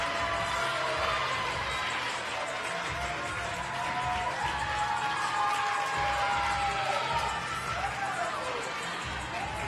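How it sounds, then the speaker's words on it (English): A large crowd cheers and applauds steadily at the Burn Boot Camp Athlete Games finals, a dense continuous roar with clapping, a few whistles and raised voices rising above it for the whole stretch. "Morgan Klein trying to get the crowd hyped up to get Lucy to finish"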